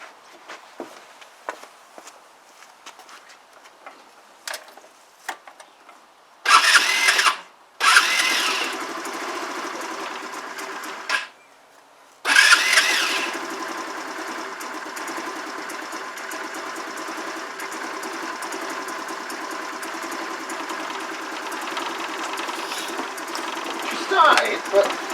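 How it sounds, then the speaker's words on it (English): Kymco Agility 125 scooter started from cold on a freezing day: a few faint clicks, then two short cranking bursts before the engine catches and settles into a steady, close idle that runs to the end. "Cold start, I think."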